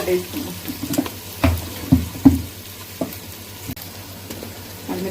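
Chicken curry frying in a pan as ginger goes in, a steady close sizzle broken by several sharp clattering stirs and knocks, with a voice speaking at times over the cooking.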